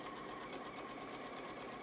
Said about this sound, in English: letting the sewing machine do all the work up against that 1/4 inch seam allowance